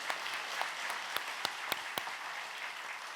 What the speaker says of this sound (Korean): 우리에게 은혜로운 말씀을 전해주신 목사님께 감사 박수를 드리겠습니다.